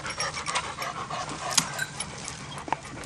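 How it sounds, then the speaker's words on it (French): Dogs pant rapidly as they pass close by outdoors on a hunting-season opening day, giving quick breathy huffs with faint rustling and a few small yips. "Ils passent comme ça les chiens."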